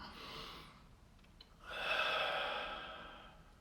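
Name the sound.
deep breaths in and out during meditation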